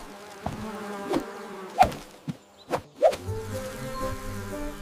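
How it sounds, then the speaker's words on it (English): Cartoon bees buzzing in a children's counting song, brief buzzy tones and soft hits with a few sharp accents, set over a light musical backing. "6 buzzing bees."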